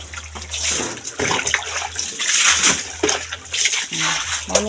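Water pours and splashes in a bathroom, a loud continuous rushing with uneven surges, heard up close with no voices over it.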